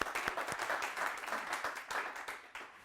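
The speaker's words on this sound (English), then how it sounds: "give yourself applause" Audience applause at a Microsoft cloud services channel partner event: a steady wash of many hands clapping, moderately loud and continuous, thinning slightly toward the end.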